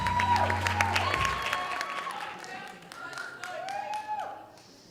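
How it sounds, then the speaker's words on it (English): Poetry slam audience clapping as a performer is called up, moderate applause mixed with crowd noise, whoops and chatter, fading gradually across the clip. "Keep clapping till he gets here."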